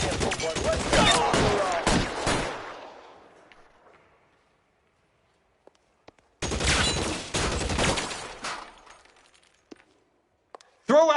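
Bursts of gunfire in the video game L.A. Noire: a loud volley of rapid shots, then silence, then a second heavy burst, with a few isolated single shots after.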